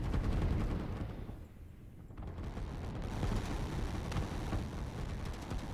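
Artillery fire in the strategy game Line War, a dense, continuous rumble of distant booms and blasts that never lets up, with a brief dip before the barrage swells again.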